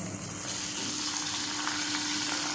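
Aloe vera gel is stirred into hot oil in a pan, producing a soft steady sizzle and bubbling with light stirring, close and brief, no voices.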